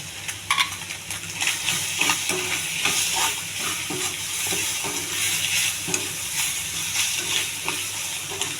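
Simple tempering for an egg fry sizzles and crackles steadily in a hot pan, a close, continuous frying hiss with occasional stirring clinks, no voices.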